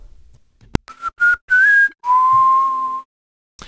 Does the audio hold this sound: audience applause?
no